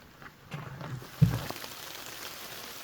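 Light rain falls on a forest trail along the McKenzie River, a soft, faint hiss of drops on leaves and ground with one brief nearby thump partway through.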